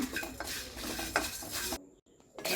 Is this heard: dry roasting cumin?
yes